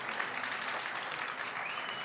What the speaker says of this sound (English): let's have another round of applause for Boris Tuxedo.